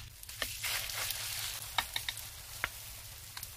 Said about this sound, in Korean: 팬에 기름을 두르고 중불에서 달군 뒤 반죽을 떠서 넣고 동그랗게 펴주세요